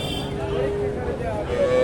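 A large vehicle's horn sounds in a couple of tonal honks over the steady traffic rumble and crowd chatter of a busy cattle market in Naogaon.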